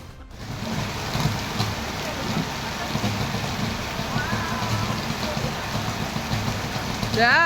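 Heavy rain pouring during a storm in Vyasarpadi, Chennai, a dense continuous hiss with low rumble, steady and close, with faint warbling tones and voices briefly in the background.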